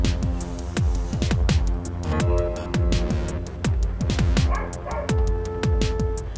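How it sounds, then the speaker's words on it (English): A neighbour's dog barks repeatedly in a steady, loud series of sharp woofs, heard through open windows near an indoor room, with no talking. "You hear the neighbor's dog making a special guest appearance again?"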